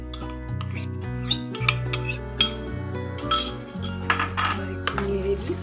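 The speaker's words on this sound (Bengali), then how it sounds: "একটু নেড়ে দিই, মিক্সড করে দিলাম।" A metal spoon stirs mixed tadka with chicken and egg pieces in a pan, giving repeated scraping clinks and sharp metallic taps over a steady background hum.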